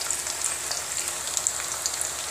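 Chopped onions fry in hot oil in a pan for a restaurant-style veg biryani, giving a steady, close, dense sizzle with fine crackling pops throughout and no voices.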